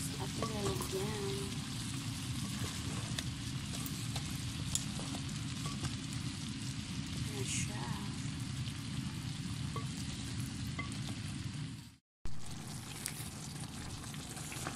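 Chicken feet adobo, Bisaya style, simmering and sizzling in a pan as its sauce reduces and thickens, a steady close frying hiss throughout with a brief cut near the end.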